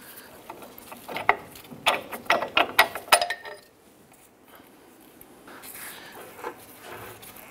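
A ratchet works loose a rear control arm bolt on a 2002-2008 Dodge Ram 1500, a quick series of sharp clicking bursts for a few seconds, then quieter faint handling noises.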